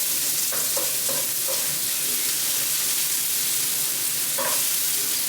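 Onions and pork fat frying in a pan, cooking slowly until slightly translucent, a steady close sizzle with a few brief stirring scrapes, no talk.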